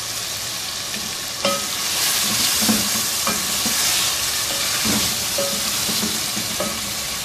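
Ginger garlic and green chilli paste frying for kofta pulao makes a loud, steady close-up sizzle, punctuated by a few scraping stirs and spoon taps, no talking.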